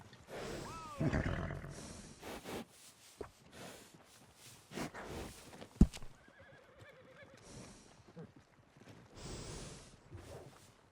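A horse in Red Dead Redemption II gives a loud whinny early on, followed by snorts, hoof clops and another neigh later, set against faint ambient noise.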